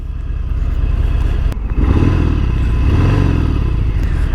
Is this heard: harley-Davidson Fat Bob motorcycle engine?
yes